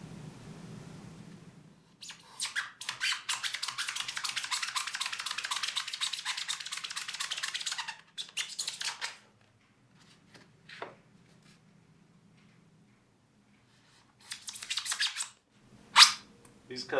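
A blade cuts foam for a flight case insert in quick, scratchy, rasping bursts, one long stretch of rapid strokes followed by shorter passes and quiet gaps, close up.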